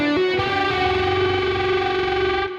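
An electric guitar drenched in distortion and chorus-style effects rings out a single dissonant chord with a major second and minor third stacked on top, struck once and sustained loudly before fading slightly.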